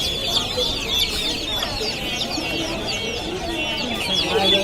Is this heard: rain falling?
no